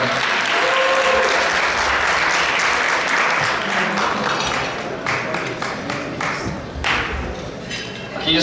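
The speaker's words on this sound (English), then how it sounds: "Big round of applause for him" Loud, dense applause from a gala dinner crowd honoring David West, sustained throughout and tapering slightly toward the end, with some scattered thumps and taps mixed in.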